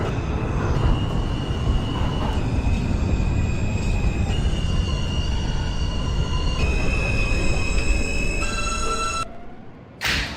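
A Manhattan-bound R subway train in the OpenBVE simulator rolls out of 95th Street with a continuous heavy rumble and whining, squealing wheel tones, ending in a sudden drop-out and a brief burst.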